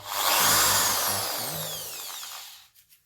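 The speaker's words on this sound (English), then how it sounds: "now I will remove these bolts" A power drill or impact driver spins out bolts on a water pump, a loud close whirring burst that rises then winds down over about two and a half seconds, followed by a couple of faint clicks.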